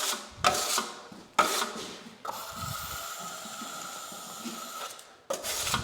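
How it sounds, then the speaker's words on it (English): A curved trowel spreads drywall mud along a butt joint in a few long scraping strokes, close and fairly quiet, with short rasping swipes at the start and end. "I'm using a curved trowel for this"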